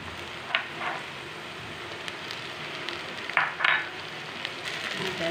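Tomatoes tipped into golden fried onions in a clay kadai give a gentle sizzle, with a few soft stirring scrapes and brief louder bursts of frying.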